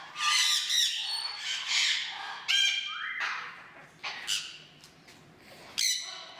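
A bird in an aviary gives loud, harsh squawks nearby, several separate piercing calls with short gaps between them over a quiet background.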